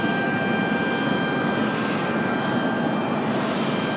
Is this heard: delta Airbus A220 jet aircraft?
yes